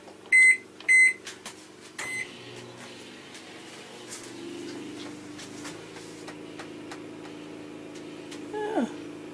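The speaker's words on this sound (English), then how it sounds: "Let's try the microwave first." A microwave oven powered by an Energizer eZV3200P portable generator on eco mode beeps twice as it is set, then hums steadily while running, with a low generator drone beneath and a faint final beep.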